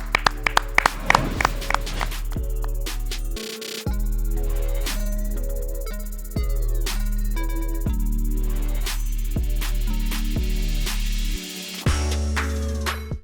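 Hands clap in a sharp, irregular series of loud claps at close range over a sustained musical backing.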